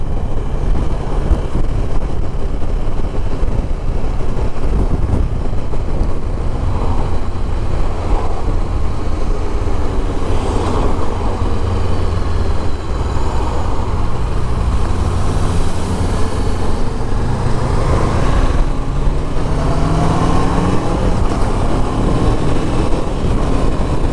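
A Honda CB500X motorcycle cruises and accelerates through the gears, a steady engine drone heavily masked by constant wind buffeting on the rider's microphone, with subtle rises in pitch during the run.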